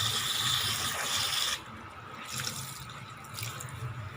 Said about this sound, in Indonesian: Baru kita cuci lagi sampai bersih.